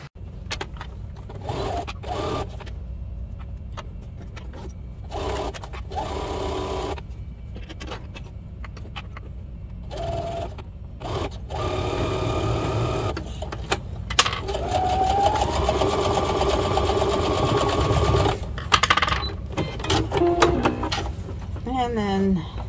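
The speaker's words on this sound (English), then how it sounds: "we'll sew this on the exact same way, doing it along this edge" A sewing machine stitches a duffle bag in repeated bursts of quick mechanical whirring with pauses between them, close and moderately loud, with some handling clatter in the gaps and a longer continuous run later.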